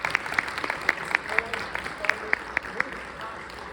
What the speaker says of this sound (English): a round of applause for you guys for helping